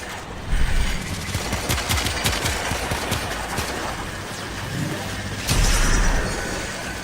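Pistol fire rings out in the Warframe video game, with rapid bursts of sharp shots and impacts, loud and close, followed by a brief lull and another burst.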